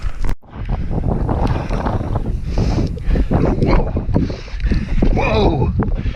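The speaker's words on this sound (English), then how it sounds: "the wind's picking up" Strong wind buffets the microphone high on Scafell Pike in poor visibility, a loud, continuous rumbling roar with gusty surges and some faint voices underneath.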